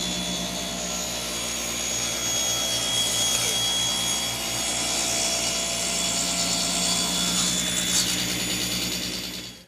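A table saw rips a board edge using a taper jig, producing a loud, sustained whine of the spinning blade with the rougher grind of the cut running throughout, then winding down at the end.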